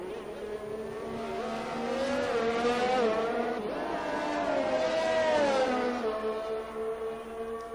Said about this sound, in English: I believe that is one of the Ferraris coming out as well